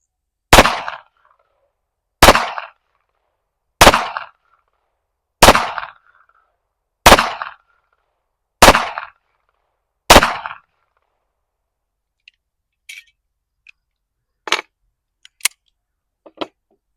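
Seven evenly spaced, sharp pistol shots from a Rock Island 1911, each loud and crisp with a short tail, followed by faint metallic clicks and small handling sounds.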